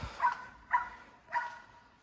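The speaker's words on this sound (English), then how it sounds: "Sorry for the yappy dog." A small dog yaps three times in sharp, evenly spaced barks, each a short bright burst that stands alone over quiet background noise at moderate distance.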